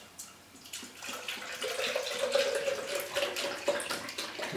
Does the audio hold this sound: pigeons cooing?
no